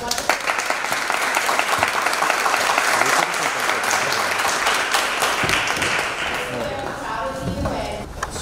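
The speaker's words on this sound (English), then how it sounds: "applaud for this one." Loud sustained applause from a live audience at an interview event with actor Christian Navarro, many hands clapping densely and continuously, with voices and cheering mixed in and the clapping easing slightly toward the end.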